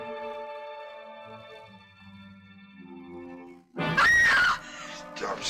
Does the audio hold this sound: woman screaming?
yes